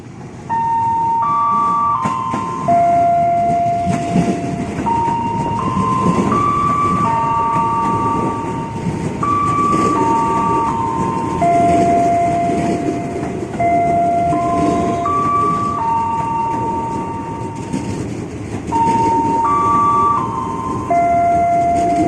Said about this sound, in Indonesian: Dari jalur 1 yang melintas lokomotif,